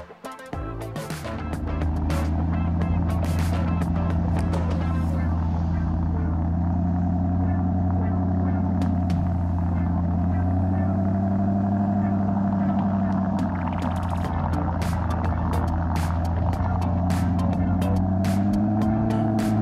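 A Maserati drives past with a steady, loud engine drone and road rumble, its pitch rising and falling through gear changes, under a continuous deep hum.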